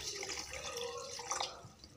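Water trickles and drips into a blender jar, a faint, soft pouring splash with small bright droplet sounds, heard alone.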